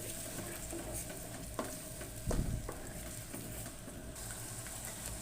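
Tomato paste frying with ginger-garlic paste in a pan for a korma, giving a steady close sizzle with spoon stirring and a brief louder scrape partway through, no talking.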